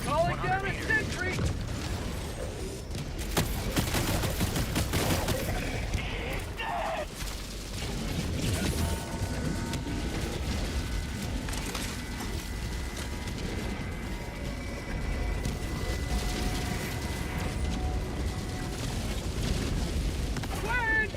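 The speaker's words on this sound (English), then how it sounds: "That's a Gatling barrage." A Gatling barrage stratagem in Helldivers 2 pounds down as a continuous, dense rumble of rapid impacts and blasts that runs for the whole stretch, loud and sustained, with voices talking over it at times.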